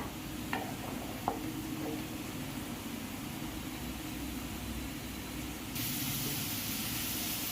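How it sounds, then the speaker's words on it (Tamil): A pot of egg curry bubbles and simmers on the stove in a continuous soft hiss, with a few faint clinks early on and a slight rise in noise near the end. "குழம்பு நல்லா கொதிச்சிட்ருக்கு."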